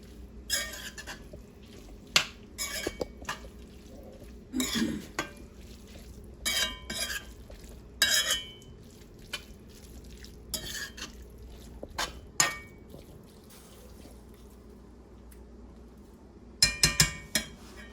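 Callaloo with saltfish is stirred in a pot, a spoon scraping and clinking against the metal in irregular bursts over a faint background hum, with no talking.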